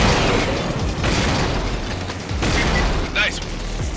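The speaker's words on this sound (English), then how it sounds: "and hit it with a few rockets" Rockets slam into an ATAC aircraft in the shooter game Killzone, producing loud, heavy explosive booms and mechanical clatter in quick succession, with a dense battle rumble underneath.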